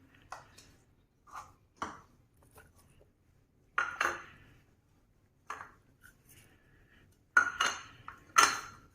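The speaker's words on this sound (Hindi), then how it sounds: "अब तमाम चीज़ें मिक्स कर दें" Cut fruits for fruit chaat tossed together in a bowl, a spoon knocking the sides in sharp, scattered clinks and taps that come in small bursts with quiet gaps between, close and fairly soft.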